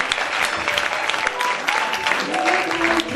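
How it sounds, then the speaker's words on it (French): A church congregation at a thanksgiving celebration applauds loudly and continuously, dense clapping mixed with scattered cheers and voices. "On acclame fortement Jésus-Christ"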